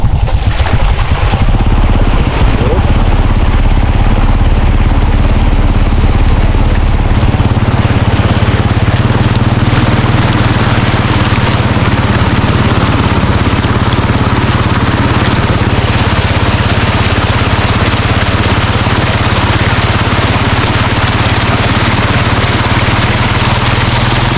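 Motorcycle engine held running steadily while riding slowly through floodwater on a road, a loud continuous droning hum with splashing water noise throughout and no pauses.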